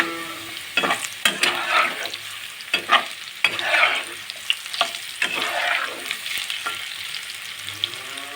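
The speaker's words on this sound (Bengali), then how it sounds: "এক পিঠ ভালো করে ভাজা হয়ে গেছে। এবার আমি উল্টে দেবো।" Cauliflower pakoras fry in hot oil, a close bubbling sizzle broken by sharp clacks and scrapes as the pieces are turned, uneven bursts throughout.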